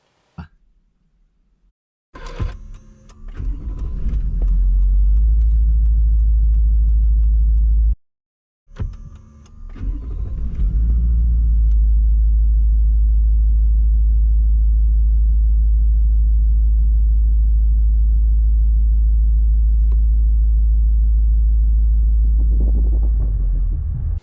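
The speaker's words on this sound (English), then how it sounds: "start the vehicle up" A car engine cranks and catches twice, with a gap between attempts, then settles into a loud, steady low rumbling idle recorded close up, no talking.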